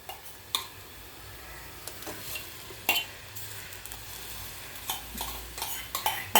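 Ground greens fry in a pan while being stirred, a soft steady sizzle with light scraping and occasional spoon taps on the pan, close but quiet.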